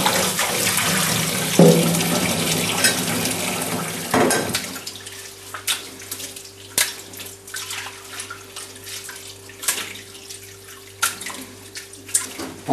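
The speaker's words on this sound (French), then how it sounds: "Je vais remettre de l'eau tiède." Lukewarm tap water runs steadily while tripe is rinsed by hand for Troyes-style andouillettes, a loud full gush at first that drops to a quieter trickle with small splashes and clinks.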